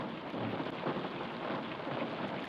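Rain falls in the farming video game Farming Simulator 25, a dense, steady wash of rainfall with low rumbling underneath, even and unbroken, with no voices.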